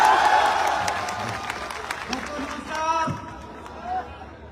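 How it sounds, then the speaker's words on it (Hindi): Crowd applause and cheering at a large Ayurveda gathering in Banaras, a dense wash of clapping that swells and fades over several seconds with crowd noise underneath. "अच्छा, ऐसे ताली होनी चाहिए अपने देश के लिए।"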